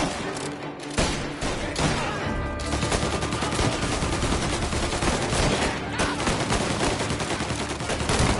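Shots ring out in the Mafia Definitive Edition game, a brief pause giving way to dense, continuous rapid-fire bursts with clattering reports layered under a faint tonal hum, loud and close throughout.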